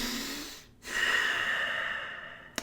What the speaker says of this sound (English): let's all take a deep breath